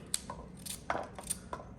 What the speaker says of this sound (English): so now you're going to cut up the coconut